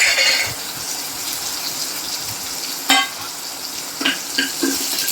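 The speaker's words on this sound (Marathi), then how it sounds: "थोडा गॅस बारीक करायचा आहे आणि ही इथे छान फोडणी हलवायची" Mustard seeds, cumin and chopped green chilli crackle in hot oil as a tempering for a cucumber salad, giving a loud, steady sizzle broken by a few sharp clinks and scrapes of stirring.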